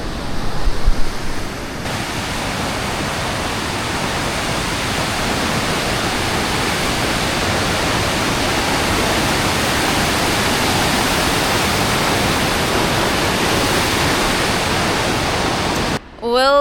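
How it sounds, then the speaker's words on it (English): Steady broadband roar of the Fossen waterfall along the road to Odda, Norway, heard close and continuous for the whole stretch, with a brief bird-like chirp near the end. "This is the waterfall, Fossen."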